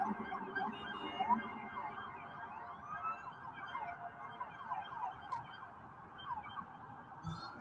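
Distant police sirens at a protest wail and yelp continuously, several overlapping tones rising and falling above low city rumble.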